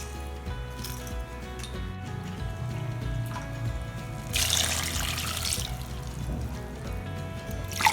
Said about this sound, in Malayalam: ഒന്നര കപ്പ് വെള്ളം ചേർക്കുന്നു